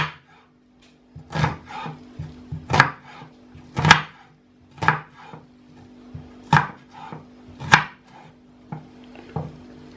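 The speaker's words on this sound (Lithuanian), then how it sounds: "dabar paimam labai smulkiai susipjaustom svogūną" An onion is chopped finely with a knife in a steady series of sharp chops, about ten of them, close and distinct with short pauses between. No one speaks.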